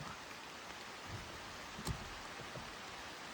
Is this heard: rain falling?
yes